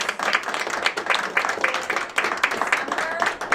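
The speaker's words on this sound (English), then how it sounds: "we're going to have one more final round of applause for all of our recipients" A school audience at a Student of the Month award ceremony applauds the recipients with dense, steady clapping that holds at an even level throughout.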